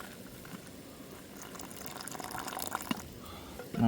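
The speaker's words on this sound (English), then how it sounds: "we just add water to this" Water is poured from a camping kettle into a pot of instant mashed potato at a woodland wild camp, a soft close trickle that gradually swells in volume over a few seconds, with no talking.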